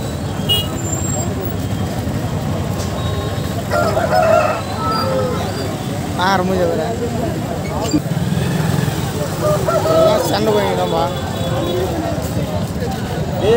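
Chickens and roosters at a busy Sunday pet market cluck and crow repeatedly, close and loud, over steady roadway traffic and bus noise while people talk nearby.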